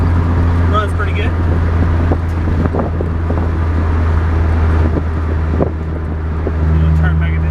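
A Honda Del Sol with a freshly repaired transmission drives along a road, its engine droning steadily inside the cabin with road and wind rumble, while someone talks over it.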